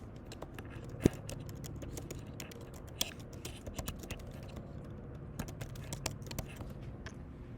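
Quiet typing on a computer keyboard for a Google search, a soft, irregular patter of key clicks with occasional sharper taps, close by and with no talking.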